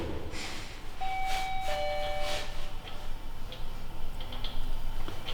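A house doorbell chimes two clear electronic tones, followed by a faint second ring, over steady outdoor background noise.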